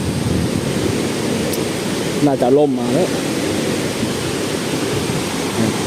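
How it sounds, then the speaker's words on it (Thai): Rushing water and mist spray at Khlong Lan waterfall, a loud, steady broadband roar with no breaks, and someone briefly speaks over it partway through. "เป็นละอองของน้ำตกครับผม"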